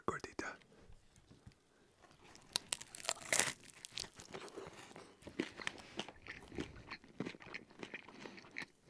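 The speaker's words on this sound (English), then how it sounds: "Gordita's got the crunch." Someone bites into a crunchy fried al pastor gordita, with sharp crackling crunches and chewing close to the mic, loudest in a burst near the middle, while a voice murmurs softly between bites.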